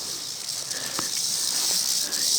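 A rattlesnake rattles in the Pennsylvania woods after being found under a rock, giving off a continuous dry, hissing buzz that holds steady and grows slightly louder, with a few faint taps and rustles nearby.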